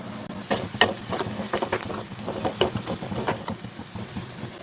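Turmeric being stirred into an onion and spice masala frying in oil for a spicy Aagri dried tiny shrimp curry: steady close scraping and stirring strokes over a gentle sizzle.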